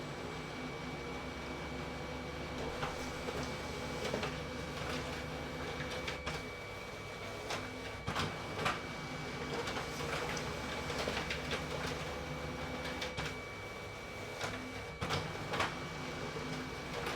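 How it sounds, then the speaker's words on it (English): A Brother HL-L2460DW laser printer prints four duplex pages onto two sheets, giving a steady mechanical whir with a constant tone and repeated clunks and clicks as the paper feeds and flips, close and alone without talk. "To print 4 pages on 2 sheets of paper, it took us 26 seconds from the moment I pressed start"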